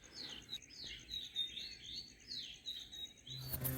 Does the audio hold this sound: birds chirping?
yes